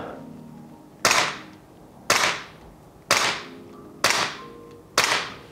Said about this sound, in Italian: sparo il primo colpo.